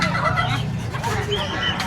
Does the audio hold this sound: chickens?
yes